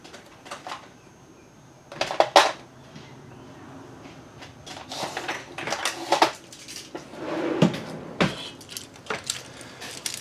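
Enamel being scraped off magnet wire to bare the copper, a few short scratchy bursts and small metallic clinks close by, separated by quiet gaps, with no talking.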